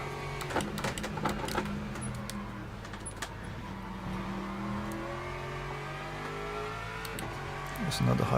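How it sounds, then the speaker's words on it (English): A hypercar passes on the Le Mans track in the Le Mans Ultimate racing game, its engine note whining and rising steadily against the player's own car drone, under spoken commentary with scattered clicks. "There's another hypercar incoming."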